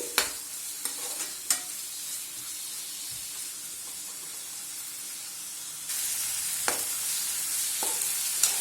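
Chicken liver frying in a pan, a steady close sizzle with a brief louder burst partway through and occasional sharp scrapes of a spatula stirring the pieces.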